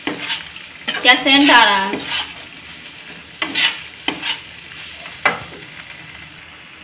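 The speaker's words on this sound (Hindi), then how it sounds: "गैस का फ्लेम हाई करके इसको 2 मिनट तक इसी तरह चला के भूनेंगे, चिपके ना कढ़ाई में।" Tomato pasta is stirred and roasted in a kadhai over a high flame, with intermittent spatula scrapes and a soft sizzle near at hand while someone speaks briefly over it.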